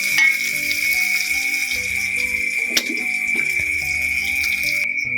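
Tempeh sizzling as it fries in a wok, a bright steady crackle running throughout with occasional clinks and stirring clatter, close and fairly loud, no talking.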